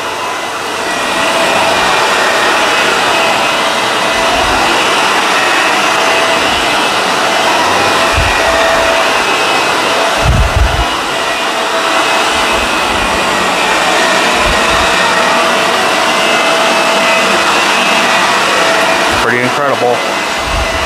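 A vacuum cleaner, one of a Shark Rotator and a Dyson Ball, sucks pet hair out of carpet with a loud, steady motor roar throughout, broken by a few low thumps and rattles near the end.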